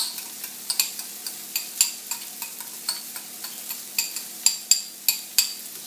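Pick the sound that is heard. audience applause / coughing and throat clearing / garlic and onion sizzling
garlic and onion sizzling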